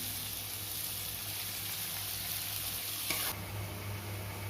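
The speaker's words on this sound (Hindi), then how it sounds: "प्याज को मैं भून लूँगी। प्याज को हल्का ब्राउन होने तक भून लूँगी।" Finely chopped onions frying in a pan, a steady broadband sizzle held close and loud throughout, with a brief scrape of stirring near the end.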